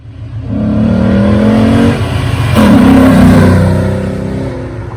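A 2005 Saleen S281 engine revs hard twice, a deep throaty roar swelling, briefly dropping, then surging again before settling into a rumbling idle.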